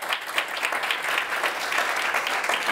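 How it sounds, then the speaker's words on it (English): A brief round of audience applause from a seated room at a policy interview event, with dense, even clapping that holds steadily for the few seconds, close and alone without talk. "If I can ask room for a short round of applause for Anthony, that would be wonderful."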